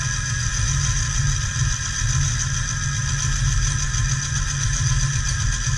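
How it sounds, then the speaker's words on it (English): A Fishon fishing line spooling machine running fast, a steady loud motor whir with a constant droning hum and faint rattle throughout, no voices. "You crank this thing up and get it going pretty fast"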